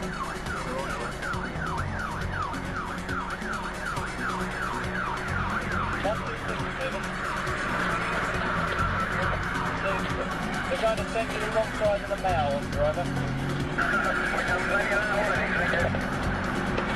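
Police patrol cars drive with wailing sirens through central London traffic toward Trafalgar Square, the sirens loud and sweeping over engine noise while someone narrates throughout.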